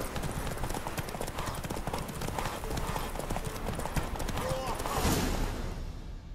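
Horse hooves clip-clop steadily on a hard road in The Witcher 3 video game, close and continuous, with a brief whinny near the end and game ambience underneath.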